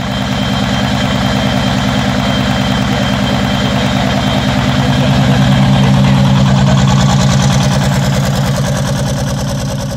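A turbocharged engine idles after its first start-up, warmed up and running fairly quietly, with an even, rapid pulsing beat that swells slightly midway and stays close and steady throughout, with no talk.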